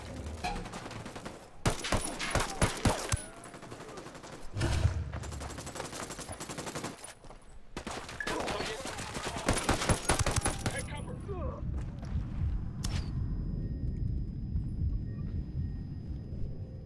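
Gunfire in the tactical shooter Ghost Recon Wildlands: dense bursts of rapid automatic shots and overlapping volleys, loud and close, broken by short pauses and ending in a low rumbling lull.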